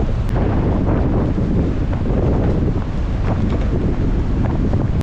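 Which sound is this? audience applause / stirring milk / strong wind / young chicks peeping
strong wind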